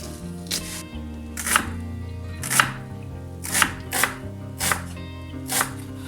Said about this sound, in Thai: แต่ว่าเมนูนี้เราจะใช้หอมแดงนะคะ หั่นเป็นชิ้นเล็กๆนะคะ เล็กที่สุดเท่าที่จะเล็กได้นะคะ